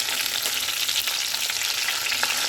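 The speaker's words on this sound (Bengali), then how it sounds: "এই যে পার্শে মাছ খুব সাবধানে ভাজছি" Parshe fish frying in a pan gives a steady close-up sizzle with faint stirring scrapes, with no talking over it.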